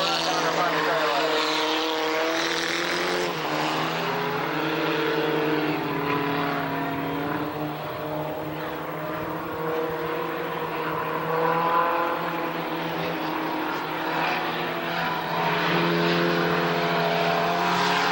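Race cars run down the front straightaway at Tonopah Speedway, engines droning and rising in pitch as they pass. The sustained roar comes with tire noise, and a commentator talks over it throughout.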